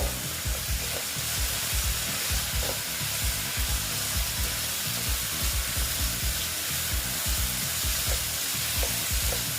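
Potatoes and spice masala fry in a pan for an egg curry, a continuous close sizzle with frequent low scraping and stirring knocks from the utensil throughout.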